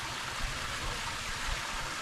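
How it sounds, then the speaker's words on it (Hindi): A natural freshwater spring in the Kheerthar Mountains near Laki Shah Sadar flows in a steady broadband rush of water, continuous and fairly near, with no voices. "तो सामने आप एक चश्मा देख रहे हैं पानी का।"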